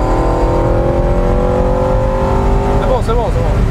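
Ferrari 308 GTB fibreglass-bodied V8 revving from inside the cabin, a steady loud engine drone with rising harmonics that swoops through quick blips near the end, with faint talk underneath.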